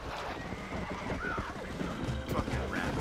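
Horses in the video game Red Dead Redemption, a couple of whinnies and snorts over steady clip-clop hooves and rustling movement, fairly close and loud throughout.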